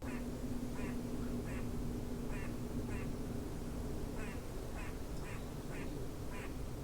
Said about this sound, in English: That's a squirrel making that noise.